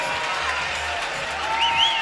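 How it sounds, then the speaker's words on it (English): Arena crowd at a 3x3 basketball challenger event in Utrecht cheering and applauding a player's introduction, a steady broad roar of clapping and cheers with a brief whistle near the end. "Crowd loves this guy."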